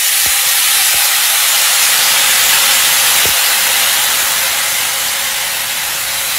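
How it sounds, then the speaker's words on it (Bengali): Water poured into a hot pan for making simai bursts into a loud, steady steaming hiss that fills the whole stretch, with a few faint clinks near the start. "আমরা কিন্তু এই পুরো কাপটা তিন ভাগ মতো জল দিচ্ছি"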